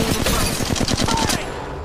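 Rapid automatic gunfire in the mobile battle royale game Apex Legends Mobile rattles out in a loud, tightly spaced burst of shots that stops abruptly, leaving quieter game ambience.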